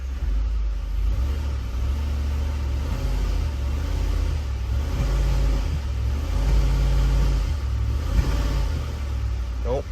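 A Ford Explorer 4.6L three-valve V8 under brake torque while in gear, engine rumbling and rising steadily in a loud, sustained revving drone, close by, with a voice talking over it.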